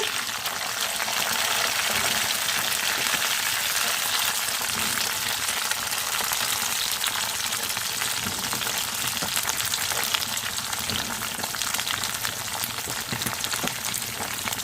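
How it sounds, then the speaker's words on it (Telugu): Curry leaves, green chillies and onions fry in hot oil for a mango and raw banana curry, giving a loud, steady, dense sizzle that holds evenly throughout. "ఆయిల్ వేడవిందండి. కరివేపాకు, పచ్చిమిర్చి, ఉల్లిపాయలు,"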